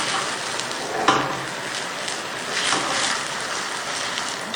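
Methi paratha frying on a hot tawa, a steady broadband sizzle running throughout with a soft clack of handling near the one-second mark, close and fairly loud with no talk.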